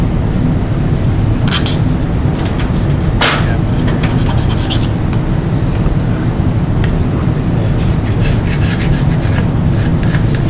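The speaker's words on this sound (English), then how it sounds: "I'm gonna clean up that outer edge ever so slightly to make sure all that glue is gone." A cabinet scraper works over the outer edge of a vintage Martin acoustic guitar's bridge area, scraping away old glue: a steady close rasping, scratchy drone with a few sharper strokes, continuous throughout.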